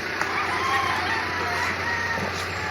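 Roosters crow and cluck in the background at a farm resort in Calatagan, Batangas, against a constant low hum and outdoor noise, with no talking.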